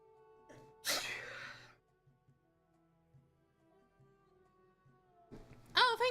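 A single sharp sneeze bursts out near the start, loud and close, followed by quiet room tone with faint background hum and a brief voice near the end.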